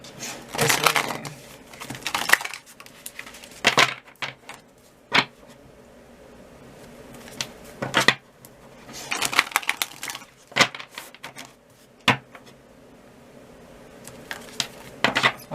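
A deck of reading cards shuffled by hand in repeated short bursts of riffling and rustling, close and fairly loud, separated by quieter pauses.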